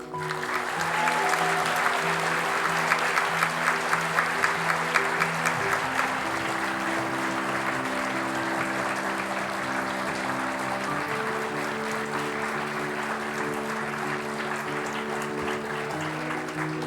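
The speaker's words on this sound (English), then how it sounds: "We can keep applauding." Graduation ceremony crowd applauding steadily in a large hall, with a rhythmic burst of clapping early on and sustained music tones playing underneath throughout.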